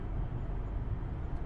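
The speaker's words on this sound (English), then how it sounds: "The sound of a car driving by" A car drives by in the Five Nights at Freddy's 4 night ambience, heard as a faint, low, steady rumble with no voices.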